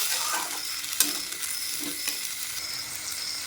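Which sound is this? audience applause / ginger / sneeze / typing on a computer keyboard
ginger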